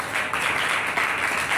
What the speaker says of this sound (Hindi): तो ये तालियां इसी तरह तय करनी चाहिए, करती रहनी चाहिए, बढ़नी चाहिए तालियां।